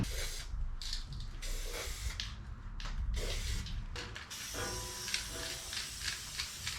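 Spray primer hisses from an aerosol can onto a rusty tailgate or floor repair patch, in several close bursts of steady hiss separated by short gaps, with no one talking.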